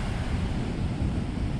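Sea waves on a beach in Cancún give a loud, continuous surf roar with wind buffeting the microphone, unbroken across the short stretch and without speech.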